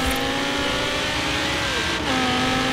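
A Lamborghini Huracan races in Forza Horizon 3, its engine a steady, loud, high-revving drone with a brief pitch drop at a shift before climbing again.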